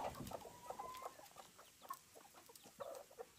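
A hen with two chicks, giving faint, irregular soft clucks and short calls outdoors, low in level and without talk.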